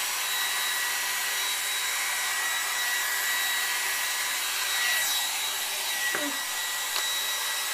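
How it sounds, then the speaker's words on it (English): A hair dryer blows with a steady, close whir and airy rush, running unbroken, with a few brief handling knocks near the end. "So I'm just going to flip my head over and blow dry,"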